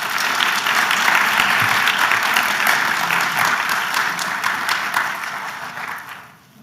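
An audience at a university updates meeting applauds steadily for several seconds, a dense, even wash of clapping that fades away at the end.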